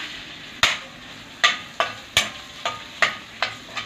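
Garlic and ginger sautéing and being stirred in a hot pan for beef pares, with roughly eight sharp scrape-and-sizzle bursts at a steady rhythm over a soft frying hiss.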